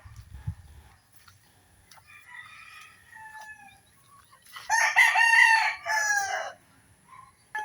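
A rooster crows loudly nearby, with softer chicken clucks and calls scattered before it in a quiet outdoor setting.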